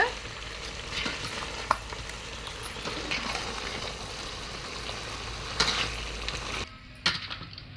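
Mutton gravy with marrow bones fries loudly in a pan while being stirred. A continuous close sizzle carries occasional sharp scrapes and knocks of the spoon, then drops away to quieter frying at the very end.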